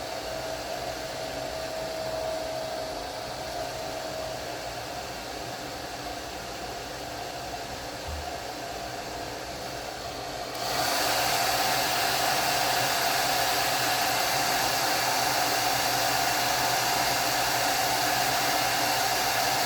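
A hair dryer drying paint on a canvas eco bag blows steadily with a broad hissing rush, jumping louder about halfway through as it is turned up or brought closer.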